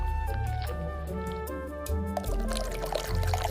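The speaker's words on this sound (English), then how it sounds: "filter out impurities with a sieve, letting the sweet potato slurry flow down" Sweet potato slurry pours and trickles steadily through a sieve, with music playing in the background the whole time.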